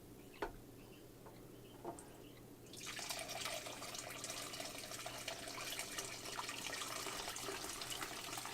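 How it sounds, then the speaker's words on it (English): Hot bone broth pours slowly and steadily from a pot into a container, a soft continuous splashing rush that starts a few seconds in after some quiet taps and drips. "I'm going to pour it nice and slow as to not splash."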